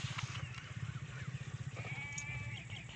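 Goats on a farm, including a nanny with her kids and some pregnant goats, bleat repeatedly and close by. Several wavering calls sound over a rhythmic low rumble.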